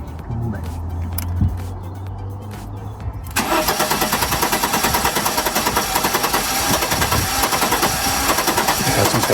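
An Audi Coupe, just fitted with a new fuel filter, cranks with a steady rhythmic starter churn and then catches, running loud and close with a dense, busy engine roar for the rest of the time.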